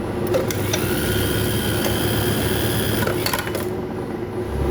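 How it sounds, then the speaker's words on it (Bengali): A JUKI LBH 781 buttonhole sewing machine runs at speed, its needle and knife mechanism clattering in a rapid steady rhythm with a few sharper clicks, close and loud with no talk. "আগে মেশিনটা চালায়া কেমন স্পিড হয়"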